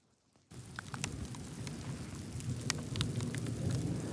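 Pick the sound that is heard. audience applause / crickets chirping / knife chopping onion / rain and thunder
rain and thunder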